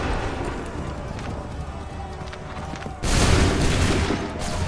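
A volley of musket fire in Assassin's Creed III Remastered on PS4 erupts as one loud, sustained crackling burst over a low battlefield rumble and scattered hoofbeats.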